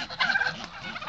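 Turkeys gobbling close by on a farm, a loud warbling burst of rapid throaty gobbles that fills the short moment.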